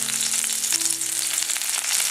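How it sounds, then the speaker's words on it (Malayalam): Thinly sliced shallots hit hot oil with already-popped mustard seeds for a coconut chutney tempering, giving a steady, close sizzle with faint crackles throughout. "ഇതിലേക്ക് ഒരു ചെറിയ ഉള്ളി വട്ടത്തിലരിഞ്ഞത് അത് ചേർക്കാം."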